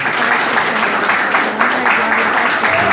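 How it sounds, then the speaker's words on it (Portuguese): A church congregation claps loudly together in a short burst of dense applause, close and energetic, with voices mixed in underneath. "E as palmas são para o Senhor Jesus."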